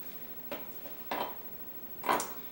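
Knife cutting through an onion on a board, three crisp, separate slicing crunches spaced about half a second apart, close and clear in a quiet kitchen.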